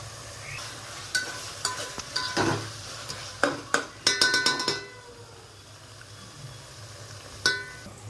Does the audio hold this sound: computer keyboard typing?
no